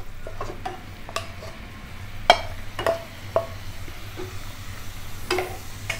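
Rice flakes with cardamom powder being stirred in a pan: scattered spoon taps and scraping clicks against the metal over a low steady hum, close and moderately loud.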